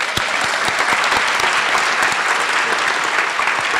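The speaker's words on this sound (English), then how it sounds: "Please give Chris a round of applause" Crowd at a university flight academy graduation ceremony breaks into sustained applause, a thick, lively patter of many hands clapping at steady loudness throughout.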